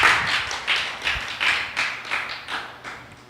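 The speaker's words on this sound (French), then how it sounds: "Applaudissez Pijol, s'il vous plaît" At a Miss ISNAC 2016 pageant, the crowd claps in a steady, rhythmic beat, roughly two or three claps per second, fairly close and unaccompanied by talk.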